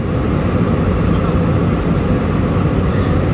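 Steady, loud cabin roar of an airliner in flight, a dense broadband rumble that holds constant without break and with no clear voices standing out.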